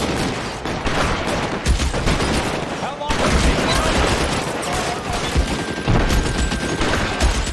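Backup officers open fire in L.A. Noire, a dense, loud fusillade of rapid gunshots and bursts crackling almost without pause, with a brief lull midway before the shooting resumes just as heavily.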